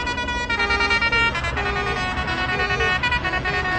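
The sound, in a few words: farmers' air horns playing Darude Sandstorm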